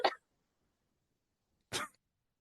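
Two short, sharp coughs from one person, separated by a pause of over a second, close and fairly loud in an otherwise quiet indoor setting.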